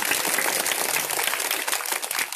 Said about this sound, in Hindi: इनके लिए भी आप लोग जोरदार ताली बजाएंगे।